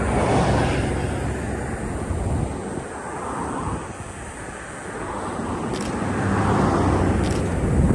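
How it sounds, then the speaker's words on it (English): A car passes by on a city street at night, its broad wash of engine and tire noise rising and falling against steady wind and traffic rumble over about eight seconds. "I want to get a car passing by in the foreground"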